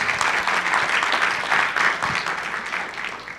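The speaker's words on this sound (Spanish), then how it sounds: "Pido un aplauso para los 3 panelistas." An audience at a panel forum claps for three panelists, dense applause that holds steady and then gently tapers off toward the end.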